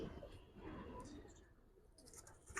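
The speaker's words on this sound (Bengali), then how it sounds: "দুইটাই কবুতর ভাই" Giribaz pigeons coo softly in a short, faint burst of low, throaty calls, with a few higher chirps toward the end.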